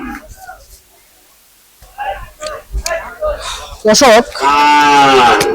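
Cattle at a busy livestock market: people talk close by, and a loud drawn-out moo follows at the end, with lowing and animal calls mixed into the chatter.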